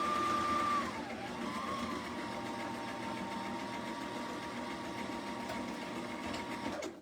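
A sewing machine back-stitches and then runs straight across a purse made from a dish mat and a kitchen towel, giving a steady, close mechanical whir that changes pitch briefly near the start and then keeps an even hum.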